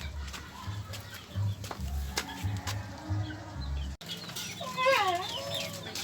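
Chickens on a small backyard farm cluck and squawk close by, with a rooster-like call rising toward the end, over low rumbling handling noise and brief thumps.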